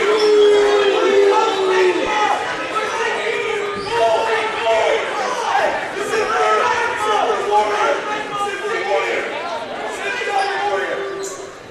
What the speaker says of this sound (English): The crowd and the bench of the Eagles do not seem to like that at all.